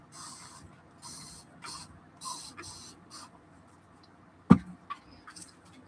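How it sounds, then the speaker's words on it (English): Mold release is sprayed onto a resin mold in several short hissing bursts of about half a second each, close and fairly quiet, followed by a sharp knock and a few soft handling sounds. "Let me spray my mold."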